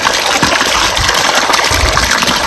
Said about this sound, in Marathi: आपल्याला मोकळ्या पाण्यात धुवून घ्यायचं मासे मस्त असं।